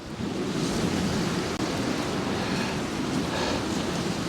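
Storm Bert drives strong wind across Poole Harbour. A continuous, dense roar buffets the microphone at full strength for the whole stretch, with no voices.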